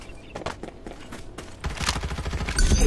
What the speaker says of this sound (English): Firing will commence shortly.